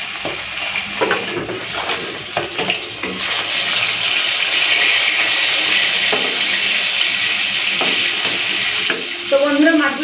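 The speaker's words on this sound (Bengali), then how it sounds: "কয়েক পিস করে ভাজা হয়ে গেছিল, উল্টে দিয়েছি।" Pieces of fresh fish fry in a pan with very little oil, giving a constant close hiss and sizzle, with a few utensil scrapes and clinks at the start and near the end.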